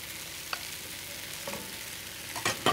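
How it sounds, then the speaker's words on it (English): Beef, thyme, onion and garlic stirred in a pot, a soft steady sizzle with a few scraping stir strokes, the last ones louder near the end. "And give that a stir."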